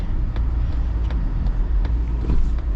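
A 2025 Mazda CX-70 hybrid SUV cruising on the road, heard from inside as a steady, low, even rumble of road and tyre noise, quiet and smooth with no voices.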